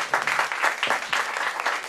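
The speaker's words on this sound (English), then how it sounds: "Big round of applause for Danny." A crowd applauds steadily for a couple of seconds at a tech meetup, dense clapping close and fairly loud, with a faint voice briefly underneath.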